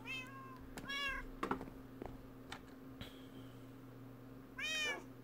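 A cat meows indoors in two distinct, clear calls, one near the start and one near the end, with scattered clicks and light tapping like keyboard typing in between.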